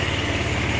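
An Easyride ADV 175 motorcycle engine, just back from a starter repair, runs in a steady low rumble at idle, close and continuous for a brief moment, with no talking.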